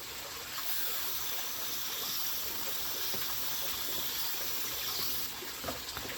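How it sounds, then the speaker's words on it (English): Water pours steadily onto peat moss while blueberry plants are potted up, a close, continuous splashing trickle that stops briefly near the end. "We're gonna wet the peat moss a little bit."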